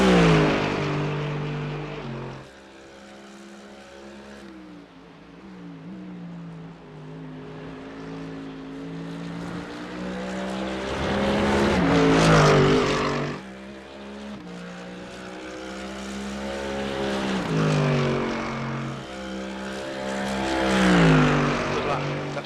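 A race car engine in a sim racing game at Road Atlanta screams through repeated upshifts and downshifts, pitch climbing and falling as the car brakes into corners and accelerates out, with someone talking over it at times.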